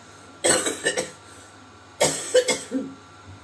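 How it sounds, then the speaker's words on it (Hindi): A woman coughs in two short bursts, each a sharp cough followed by a couple of smaller hacks, close to the microphone in an otherwise quiet room. "मुझे हो रही है खांसी"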